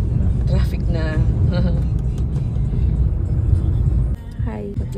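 Road traffic rumbling steadily from inside a car stuck in heavy congestion on the way to an All Souls' Day family visit, a constant low engine and road drone with people chatting over it throughout.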